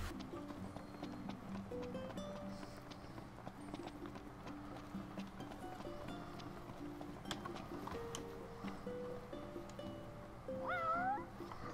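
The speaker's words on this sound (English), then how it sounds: "That's right, kitty cat. You love me." A cat meows in the Final Fantasy 15 video game, with short rising calls near the end over a busy bed of in-game music and ambient effects.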